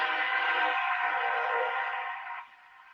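A train rolls past with a loud, steady metallic rumble and tonal whine that holds for a couple of seconds, then fades away.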